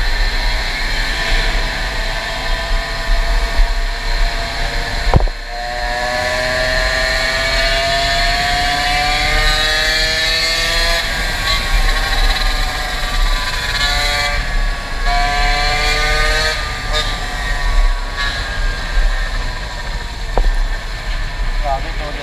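A motorbike engine drones steadily while riding on flat road, a constant loud hum with shifting pitch and wind rush, and a rider talks over it throughout.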